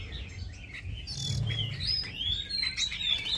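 Baby birds chirping at a bird farm, with steady overlapping high tweets and calls close by over a low background rumble.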